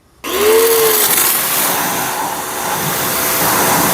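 A pressure washer kicks on after a moment of silence, a brief rising whine giving way to a loud, steady broadband hiss and motor drone that holds to the end.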